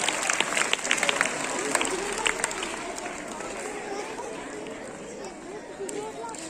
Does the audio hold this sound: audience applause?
yes